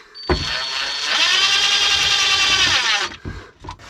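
A power drill drives a screw into wood, its motor whining loudly and steadily up close for nearly three seconds before stopping, followed by a few small knocks.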